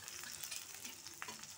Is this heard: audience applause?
no